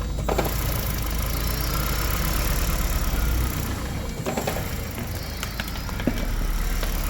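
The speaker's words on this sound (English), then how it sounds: "actually why it's continuously running the engine, because the heater blower motor is on." A Toyota Prius engine, under diagnosis for overheating and a water pump fault, runs continuously with a steady mid-pitched hum and faint rattles, while a few clicks and knocks of handling ring out nearby.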